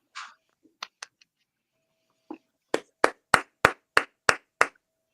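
A few scattered, hesitant claps followed by a quick run of about eight crisp, evenly spaced hand claps from a single nearby person, sharp and isolated against silence.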